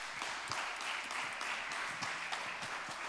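Church congregation applauding at an evening teaching service, steady dense clapping heard from a distance and fairly faint throughout.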